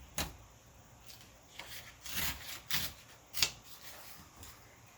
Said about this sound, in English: I'm going to tear off this corner